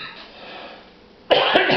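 A single sharp cough erupts up close after a quiet, hushed stretch, followed by a brief second burst.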